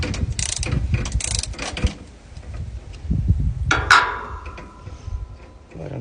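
A flaring tool is backed out on copper refrigerant line for a mini split connection, giving close ratcheting clicks and metallic rubbing, then a sharp ringing metal tick that fades.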